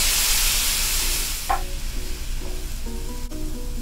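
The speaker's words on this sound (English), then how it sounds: "now we are adding 3/4 cup beef broth" Beef broth poured into a hot pan of browned beef, a steady bright sizzle and hiss with stirring clatter, near and fairly loud, while background music plays softly.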